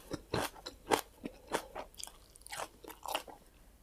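Close, crisp chewing and biting of a spicy Thai-style pounded salmon salad with giant garlic stems, topped with small sea snails in a thick dressing, with irregular crunchy bites and mouth sounds and no talking.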